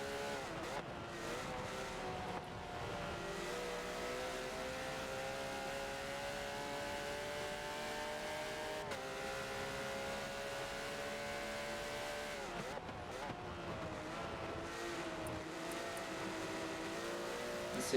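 Porsche and BMW race cars lapping Circuit de Spa-Francorchamps in a 24-hour racing game event, a sustained high engine whine rising and falling through gear changes and corners, loud and continuous.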